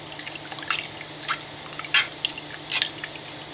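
Violet food coloring drips into a yarn dye pot, a handful of separate small plinks and splashes spaced unevenly, fairly close and quiet against a low steady hum.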